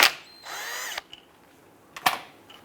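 A power tool with a 14mm socket spins briefly to remove a plug from a 2008-2013 Nissan Rogue A/C condenser, a close half-second whir followed by a few sharp clicks and a short second burst.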